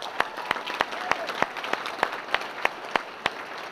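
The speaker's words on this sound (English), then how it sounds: "Can I please give them a round of applause?" Hearty applause at a sports hall of fame enshrinement banquet, honoring athletic directors, with a crowd clapping steadily and several sharp, distinct claps ringing out above the wash.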